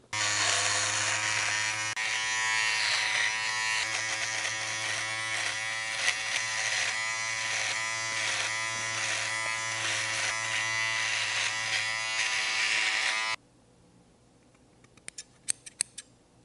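A Remington Beard Boss electric beard trimmer buzzes loudly and steadily at close range for about thirteen seconds, then cuts off, leaving only faint clicks and handling taps.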